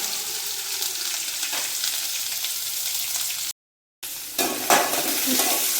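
Mustard seeds, curry leaves and green chillies fry in hot oil, a steady loud sizzle with stirring scrapes that cuts out briefly to silence before resuming louder with sharper spatters.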